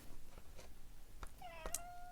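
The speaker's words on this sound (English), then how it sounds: "She's meowing away there." A cat gives a single drawn-out meow near the end, close and clear, following a few soft rustles and taps in a quiet room.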